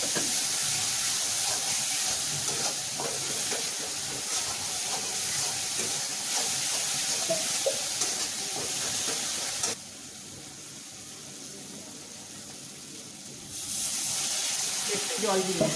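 Steady, loud sizzling and hiss as water is poured into a pan of frying spiced masala for fish curry, with a brief drop in level partway before the sizzle rises again; no one speaks.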